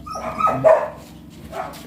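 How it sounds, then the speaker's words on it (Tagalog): A dog barks close by in a few short, sharp yips and woofs near the start, followed by quieter whimpering sounds on an island outing. "Aso yun."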